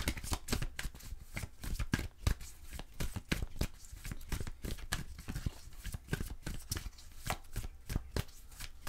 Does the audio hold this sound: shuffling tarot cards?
yes